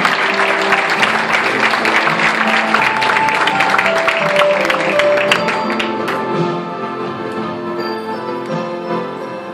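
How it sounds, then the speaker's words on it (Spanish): A crowd at a senior citizens' tribute event in Barrial, Gáldar, claps loudly and continuously, the applause gradually thinning and fading toward the end. "Un fuerte aplauso."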